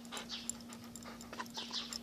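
A one-year-old dog pants softly in quick rhythmic breaths, faint and close, over a steady low electrical hum.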